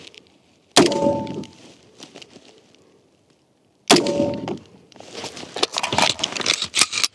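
Two sharp, loud rifle shots of an armor-piercing 190 grain round striking an armor plate, each a hard crack with a ringing metallic smack and brief decay, the second followed by rustling and shuffling.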